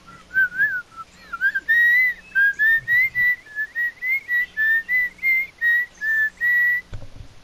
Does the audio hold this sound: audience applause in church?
no